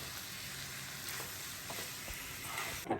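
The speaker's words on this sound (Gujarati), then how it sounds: "અને હવે આ તમે આ રીતે પૌવા નાખો." Flattened rice (poha) sizzling and frying in a pan while being stirred, a steady hiss with light scraping touches throughout, no voices.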